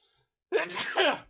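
A single sharp sneeze, close and loud, bursting out after a near-silent pause.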